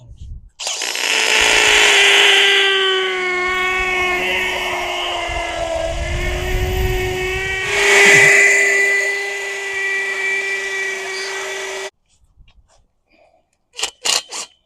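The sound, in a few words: power drill drilling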